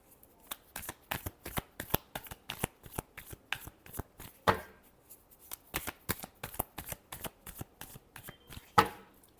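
Tarot cards being shuffled by hand, a rapid rhythmic series of crisp riffling snaps close up, with two louder slaps where the deck is squared.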